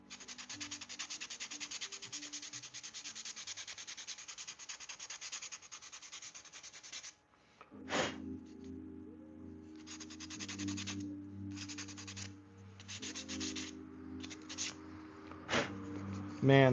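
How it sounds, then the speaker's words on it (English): Sandpaper rubs along the grain on the butt of a handmade wooden knife, a steady close scratchy back-and-forth for several seconds, then shorter strokes over a low hum, with a voice talking quietly underneath. "So I'm gonna try and sand it with the grain on the butt to really get a nice look."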